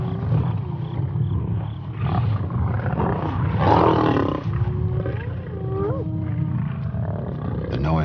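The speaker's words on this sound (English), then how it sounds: "Because Matsumi is weaker, she has to struggle to fight her way into the feeding frenzy" Lions and hyenas fighting over a kill in the wild, deep roars and growls with scattered yelps and whoops in a continuous feeding-frenzy clamor, under a narrating voice.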